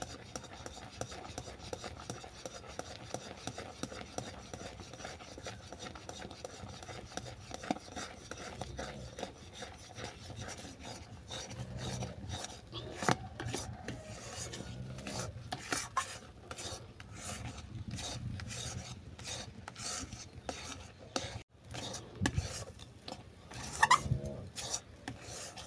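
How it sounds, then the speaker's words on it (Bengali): Semolina is stirred little by little into a thickened pumpkin and milk mixture in a pan, a repeated scraping and rubbing of the spoon that grows busier and more rhythmic toward the end, with no talk. "এরপর অল্প অল্প করে সুজি দিয়ে আমি ভালো করে মিশিয়ে নেব"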